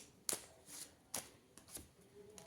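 Tarot cards being shuffled by hand, giving four or five crisp riffling bursts spaced unevenly, close and fairly quiet with no talking.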